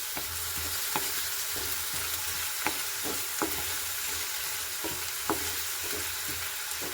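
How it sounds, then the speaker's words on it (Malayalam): Onions, tomatoes and green chillies sizzle steadily in a pan while a spoon stirs through them, with sharp scraping clicks against the pan at irregular intervals; close and continuous, with no talking. "ഇൻഗ്രീഡിയൻ്റ് എല്ലാം ചേർത്ത് കൊടുത്ത് നമുക്ക് നന്നായിട്ട് ഇളക്കി കൊടുക്കാം"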